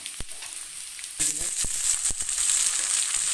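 Onions and garlic dropped into hot oil in a pan, a sudden bright sizzle that starts after a few clicks and then hisses steadily, close and moderately loud.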